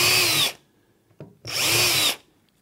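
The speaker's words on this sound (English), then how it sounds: "I'm now going to drill 3 holes." Power drill boring holes through a drawer unit panel while fixing a leg boss, two bursts of steady whining drilling with a brief quiet pause and a small knock between them, close and loud with no talk.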